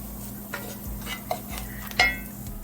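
Curry chicken sizzles gently in oil in a pot, with a soft, continuous frying hiss broken by a few light stirring clinks and scrapes over a low background hum.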